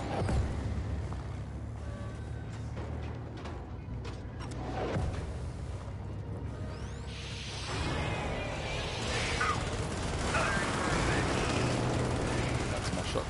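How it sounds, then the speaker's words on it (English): Shotgun fire in the video game Helldivers on PS4, dense battle noise with repeated gunshot bursts and whooshes layered over a continuous roar, louder in the second half, with speech mixed in. "That's my shotgun."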